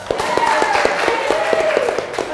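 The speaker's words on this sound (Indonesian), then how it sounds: "Tepuk tangan buat kita semua" A classroom of students claps together during a role-play lesson on Indonesian law, with quick, evenly spaced claps close by and a voice running faintly underneath.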